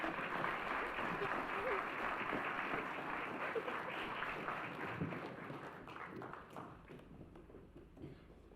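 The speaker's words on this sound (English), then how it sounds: "Give him a round of applause," A church congregation applauds a child who has just finished a story, the clapping dense and steady at first, then gradually thinning and fading toward the end.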